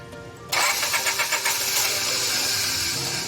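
A Honda Civic with a VTEC engine, which will not start after an engine wash, is cranked with the key. After a short quiet lead-in, a loud, steady starter whir runs with a rapid pulsing rhythm and no voices.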